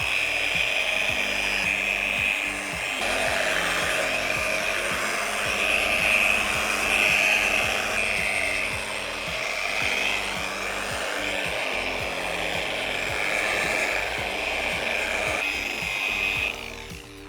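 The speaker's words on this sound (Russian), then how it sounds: "либо полировальной машины с меховой насадкой" A polishing machine with a fur attachment buffs waxed decorative plaster on a wall, giving a steady, close motor whine with a high tone and small shifts in pitch as it moves across the surface.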